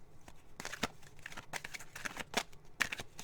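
Oracle cards being drawn and shuffled by hand, heard as a quick series of crisp, close flicks and slaps with light rustling between them, over a quiet room with no talk.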